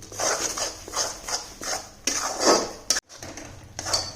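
A spoon scrapes and stirs gram flour roasting in ghee in a metal kadai, producing repeated rhythmic metallic scraping strokes close by, with a brief clatter and a pause near the end.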